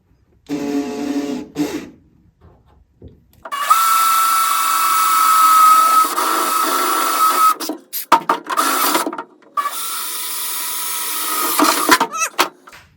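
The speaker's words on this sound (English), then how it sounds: "we'll go ahead, drill our 2 holes" A power drill whirs loudly in two long bursts separated by short pauses and clicks, with a brief voice murmur at the start, drilling two bolt holes for a bracket on an M38A1 jeep.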